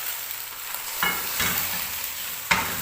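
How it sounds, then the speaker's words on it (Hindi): White sauce is stirred into macaroni in a pan over low heat, a soft steady sizzle broken by a few scraping stirs and a sharp clink near the end. "और इसको मिक्स करते जाएंगे।"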